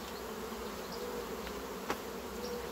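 Bees swarm and buzz at an opened beehive, a dense, continuous hum that holds steady throughout, with one brief sharp knock partway through.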